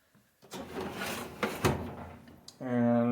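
A workshop drawer holding drill bits and belt sander belts slides open or shut with a brief wooden rub and clunk, ending in a steady tonal hum; close and moderately loud.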